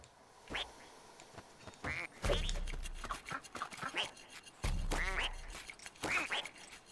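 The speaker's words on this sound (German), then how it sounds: "Der hat mich zu einer Ente gemacht." Cartoonish duck quacks from the Rayman Legends video game come in quick bursts of two and three, interleaved with thumps and game noises, loud and close.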